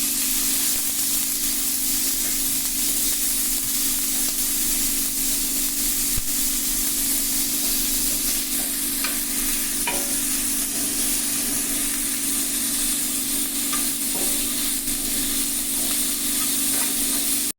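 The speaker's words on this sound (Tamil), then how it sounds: "அதில் வெங்காயத்தை போட்டு நல்லா பொன்னிறமாக வதக்கணும்." Onions sizzling and frying in oil in a pan while being stirred, with a steady continuous hiss throughout and occasional scrapes and taps of the spoon, close and alone without any talk.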